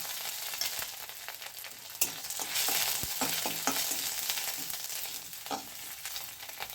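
Dry red chilli, bay leaf, asafoetida, cumin and grated ginger frying as a tempering in hot oil for a neem leaf curry, a bright continuous sizzle with sharp crackles and spatula stirs, close up and without talk.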